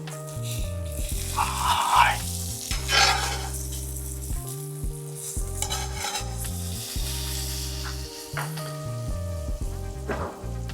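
A triple cheese sandwich grilling in a pan just after the flip, a soft crackling sizzle beneath prominent steady background music with occasional stirring or scraping.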